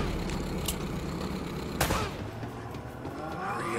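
Gunfire in Uncharted: Drake's Fortune, with scattered sharp shots and cracks over a rumbling game background at moderate distance.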